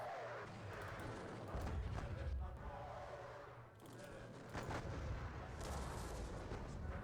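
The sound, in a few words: artillery firing in John Tiller Napoleonic video game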